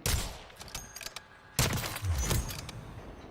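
Video game gunfire from Call of Duty Warzone MW3: bursts of sharp, loud shots in quick succession, with a pause before a second heavy volley of repeated firing.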